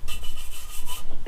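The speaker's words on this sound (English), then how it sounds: "It's just going to be scrubbing." Close, steady scrubbing of a Gen 5 M90 lower intake manifold by hand with a brush, repeated back-and-forth strokes with no speech.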